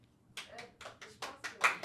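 Scattered claps from a small studio audience voting by applause on a French-language talk show, arriving as several short, quiet bursts at an uneven rhythm.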